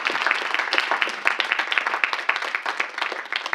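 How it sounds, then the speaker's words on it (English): A room at a council meeting breaks into clapping, a brisk dense patter of many hands that is close and sustained without a break. "I think that was a bigger clap than Mr Collins got."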